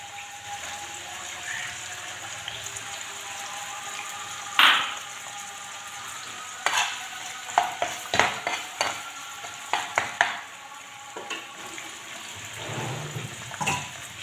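Boiled green peas sizzle and fry in a pan, a steady frying hiss throughout, broken by scattered sharp scraping knocks of a stirring utensil against the pan.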